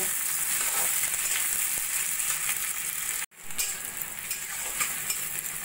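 Two large thinly sliced onions frying in oil until golden, a steady dense sizzle with stirring throughout and a brief break midway before the crackle resumes.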